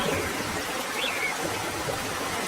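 Rainwater flowing in a cartoon forest scene, rising toward birds' nests: a steady, close wash of broadband trickling water runs throughout, even and unbroken with no voices over it.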